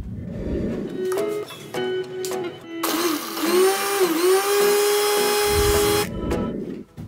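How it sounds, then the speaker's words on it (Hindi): A small mixer grinder jar grinds turtle calcium into powder, with a loud, steady high whine for about three seconds between shorter start-up bursts and motor hum. "एक छोटा सा मिक्सर जार लेके इसको पूरा डाल के हम इसको ग्राइंड करेंगे प्रॉपरली"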